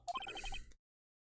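A phone ringtone plays a short, catchy electronic melody of a character's theme in the Phoenix Wright: Trials & Tribulations video game, about seven quick bright notes in a row, close and clear, then cutting off into silence.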